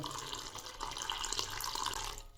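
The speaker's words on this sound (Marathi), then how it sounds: "हे मी मेथ्या दळल्यानंतर आता याच्यामध्ये दूध टाकते" Milk pours steadily into ground fenugreek in a bowl, a continuous close splashing, liquid rush lasting a couple of seconds with no voices.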